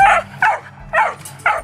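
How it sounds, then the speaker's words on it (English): A dog gives four sharp, close barks in a quick uneven rhythm, loud and alone. "Dogs bark"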